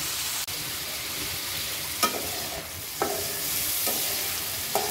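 Spice paste of turmeric, coriander and chili powder with a little water frying in oil for katla fish bhuna, a steady sizzling hiss broken by a few sharp stirring scrapes, close and moderately loud.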